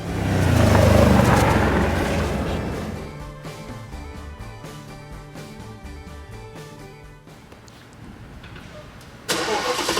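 A 2003 Audi RS6 with a twin-turbo V8 fires up with a loud cranking roar that swells then settles into a lower, steady idle rumble, ending with a sudden burst of louder noise.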